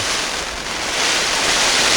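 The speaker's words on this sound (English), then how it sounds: "I'll give this a good water now. You don't just gush it on." Water pours steadily onto tomato plants at an allotment, a continuous close hiss-like splashing that swells slightly louder toward the end, with no talk.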